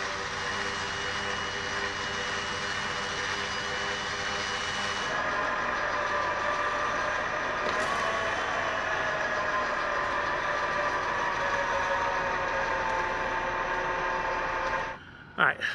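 A Jeep Gladiator idles in gear on a trail, giving a low, smooth, steady engine hum with little variation. The sound shifts slightly partway through and cuts off abruptly at the end.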